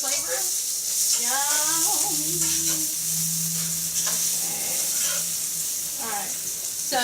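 Potatoes and onions browning and crisping in a pan give a steady, bright sizzle and hiss that runs the whole time, close and loud, while a person talks over it.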